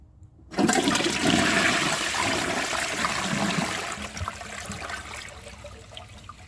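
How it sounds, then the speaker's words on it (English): A Duravit Starck 3 wash-down toilet from 2011 flushes with a sudden loud rush of water that starts abruptly, then tapers into a steady draining gurgle and trickle as the bowl refills. "So let's give this a flush and see how it does on tests."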